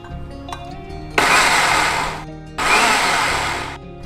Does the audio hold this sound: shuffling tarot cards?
no